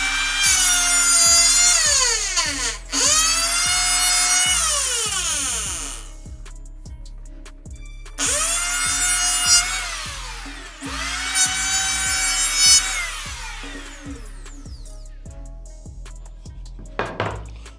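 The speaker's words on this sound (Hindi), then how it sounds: "ये देखिए इसकी प्लेनर की फिनिशिंग कितनी ज़बरदस्त होगी" A Bosch GHO 26-82D electric wood planer runs in bursts, winding up to a high whine and spinning down again four times, with short clatters and knocks in between and no talk.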